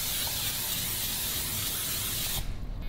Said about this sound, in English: but I'm just gonna use the spray